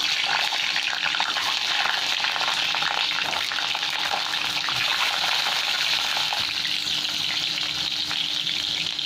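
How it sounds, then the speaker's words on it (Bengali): Boiled eggs seasoned with salt and pepper frying in oil in a kadai, a loud, dense, continuous sizzle and crackle held close and steady throughout with no talking. "দিয়ে দিলাম কড়ার মধ্যেই ডিমগুলো।"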